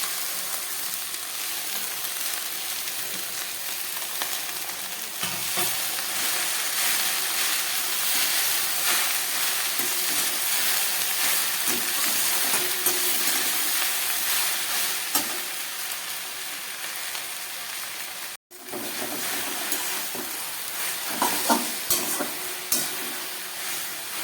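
Chopped jute leaves sizzle and fry in a pan with garlic and onion, a loud continuous hiss with occasional stirring scrapes, no voices.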